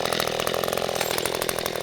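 An Echo brush cutter fitted with a brush blade runs at full throttle, a loud, continuous high-pitched two-stroke whine without pause.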